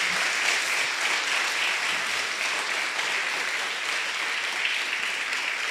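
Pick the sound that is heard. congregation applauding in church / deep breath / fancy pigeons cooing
congregation applauding in church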